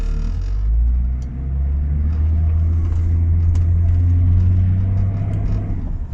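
Range Rover P38 with a power-loss fault, engine droning steadily while driving, a deep constant rumble with slight swells in load throughout and no talking over it.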